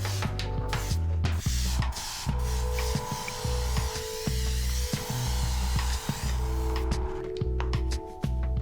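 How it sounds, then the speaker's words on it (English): An airbrush sprays paint in a steady hiss that runs continuously, broken by brief pauses, with a low mechanical hum underneath and no talking. "Open up the airbrush, open up the air pressure, and you just do a general spray"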